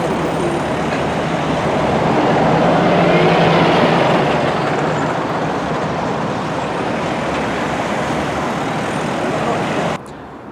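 A train runs on a Scottish rail line toward Alloa, a loud, steady broadband rumble and rush that carries on without a break before cutting off abruptly near the end.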